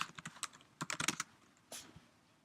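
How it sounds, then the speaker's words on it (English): Fingers tap on a computer keyboard in quick irregular clusters of clicks, close and moderately quiet, with a short pause before one last keystroke. "I can just start typing."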